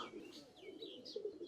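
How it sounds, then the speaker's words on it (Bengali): Soft cooing of racing pigeons in a loft, a low murmur from a female pigeon of a strong racing line with higher chirps mixed in, fairly faint and continuous with no talk. "নাপ্তা জেনারেশনের আর একটা মাদি কবুতর।"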